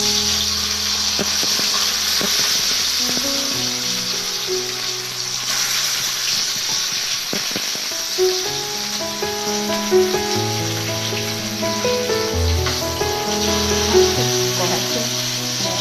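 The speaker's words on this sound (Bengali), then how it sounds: "আমার তেলটা গরম হয়ে গেছে। মাছগুলো দিয়ে দিলাম।" Fish frying in hot mustard oil, a steady loud sizzle running throughout with faint clinks and stirring sounds mixed in, no voices.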